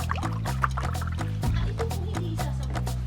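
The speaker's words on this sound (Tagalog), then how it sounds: "at saka lalagyan ng tubig." Water is poured into a cooking pot of simmering pork, a soft, close trickle and splash heard under a steady background music bed.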